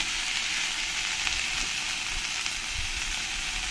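Vegetables fry in hot oil with turmeric for Bengali shukto, giving a continuous even sizzle and hiss, close and steady with faint stirring and no talk.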